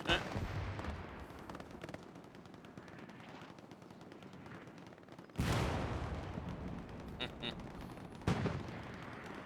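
Artillery shells detonating in the Hell Let Loose video game, bursting early off treetops; several heavy booms and gunfire crackle sound at middle distance, with one sharp blast jumping in loudness midway and another near the end.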